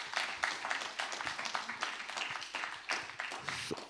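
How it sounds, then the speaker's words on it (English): An audience at a poetry jam claps for the day's performers and the host, a lively spread of individual hand claps with a loose, uneven rhythm, moderately close. "can we just give a big round of applause to everybody else that has performed today and to our host"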